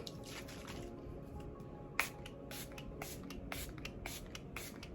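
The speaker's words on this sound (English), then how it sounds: "To set my makeup, I'm going to be using the Milani Fruit Fetish Make It Last Setting Spray." Several short hissing sprays of Milani Make It Last makeup setting spray in quick succession, close by, with brief pauses between bursts in a quiet room.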